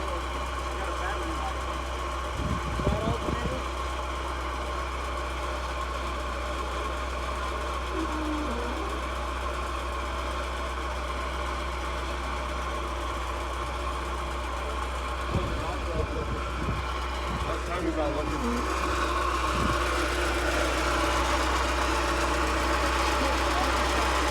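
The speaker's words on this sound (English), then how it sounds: "What do we think about the engine sound? Sounds pretty damn good for sitting." An abandoned Porsche 944 engine, running again after sitting for more than 25 years, idles with a steady, even drone and light mechanical ticking. People talk intermittently over it.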